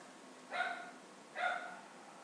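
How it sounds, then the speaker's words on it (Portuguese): A dog barks twice in the background, two separate muffled barks about a second apart, faint and at a distance indoors during quiet painting work. "E o nosso ator não convidado está latindo ao fundo do vídeo novamente."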